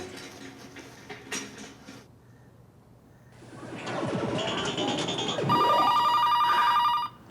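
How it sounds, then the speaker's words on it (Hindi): A telephone rings indoors in a comedy drama, a bright repeating electronic ring that comes in after some softer background sounds and a whooshing effect, fairly loud and sustained to the end. "आ गया उस वाहियात का फोन फिर से।"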